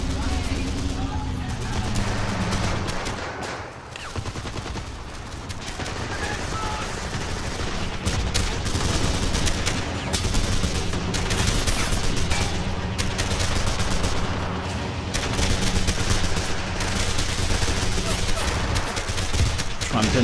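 Men of War battlefield with a Hummel self-propelled artillery gun pounding a target amid constant rattling gunfire and booming bursts, layered over a dense combat din with voices heard throughout.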